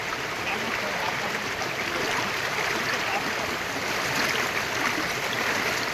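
Strong current of a rushing stream at Nagarmadi waterfall near Karwar, a dense, continuous close-up roar of churning water with steady loudness throughout.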